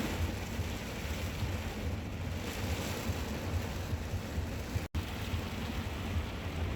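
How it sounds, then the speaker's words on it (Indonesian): Constant, dense roar of heavy rain and strong wind outside a stall amid corn and soybean fields, loud and unbroken, with a brief dropout near the end. "campur hujan deras banget."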